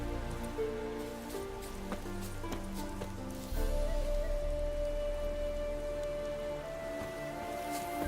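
Steady rain falling in a video game, a continuous soft hiss of drops that holds evenly throughout, with sustained tonal background music layered underneath.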